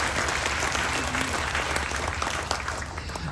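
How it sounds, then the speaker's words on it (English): Loud, sustained applause from a large crowd at a Memorial Day celebration aboard the cruise ship Ovation of the Seas, steady and enthusiastic throughout. "give them a nice big round of applause as well"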